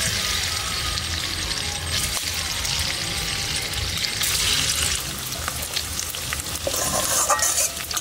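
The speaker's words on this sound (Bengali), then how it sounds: "সাদা তেল দিয়ে দিচ্ছি, পনিরগুলো ভেজে নেব" Paneer pieces sizzle and crackle while frying in white oil in a pan, a loud, steady spatter with faint stirring scrapes throughout.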